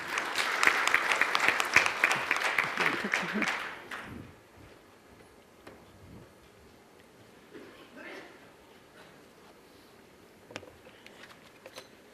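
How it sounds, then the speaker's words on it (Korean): At a science and technology forum, the audience claps to welcome the first speaker, a professor: a burst of hearty applause for about four seconds that quickly dies away, leaving a quiet room with faint voices and rustling. "박수로 환영해 주시기 바랍니다"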